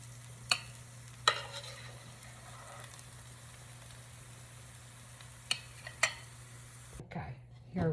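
Eggplant pieces frying in oil in a pan: a soft, steady sizzle broken by a few sharp clinks of a utensil against the pan, with a brief rustle near the end.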